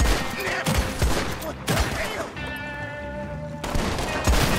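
Repeated gunfire in the Western video game Red Dead, with several loud bursts of shots and a brief lull between them, heard up close and alone.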